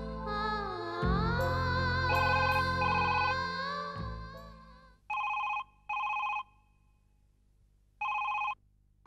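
A telephone rings in three short, evenly spaced bursts of electronic tone, loud and clear, following a stretch of dramatic background music that fades out before the ringing starts, in a Hindi TV drama scene.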